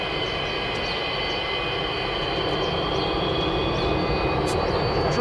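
MiG-29 jet fighter engines during an emergency landing, a loud continuous roar and whine heard close and steady with no talk.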